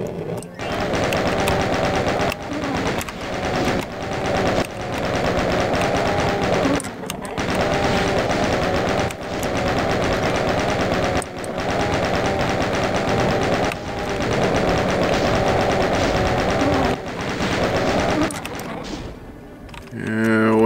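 Rapid, continuous weapon fire in the first-person shooter The Ultimate Doom, a dense mechanical rattle of shots running almost without a break for about eighteen seconds, loud and up front, ending in a brief gap and trailing game noise.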